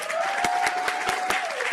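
Audience applause at a graduation ceremony: a dense, steady patter of clapping from a crowd, with sharper individual claps standing out and a faint voice-like tone running underneath.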